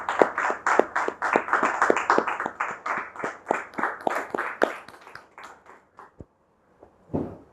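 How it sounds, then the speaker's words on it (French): A studio audience on a French-language talk show claps in a rhythmic run of distinct, fairly close claps to welcome a guest. The clapping thins out and stops, followed by a short burst near the end. "c'est avec justement des encouragements, des applaudissements que nous allons lui dire welcome et akwaba à cette émission"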